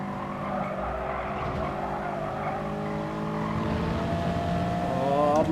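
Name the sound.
race car skidding as rival spins, video game Gran Turismo Sport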